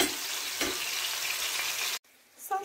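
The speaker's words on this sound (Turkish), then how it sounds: "Köftelerimi kızarırken." Meatballs fry in a pan with a dense, close, steady sizzle that cuts off abruptly near the end before a short burst of crackle returns.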